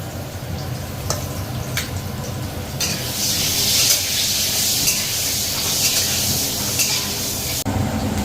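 Potatoes fry in a pan with grated nutmeg added, a continuous sizzling hiss that swells louder partway through, with occasional clinks and light stirring, close by and without talk.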